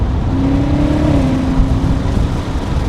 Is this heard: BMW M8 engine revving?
yes